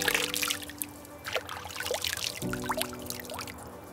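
Water pouring and trickling in a natural Icelandic setting, a close, bubbly flow with scattered splashes and drips over a faint steady tone, with no voices.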